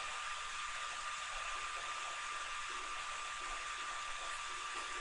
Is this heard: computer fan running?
yes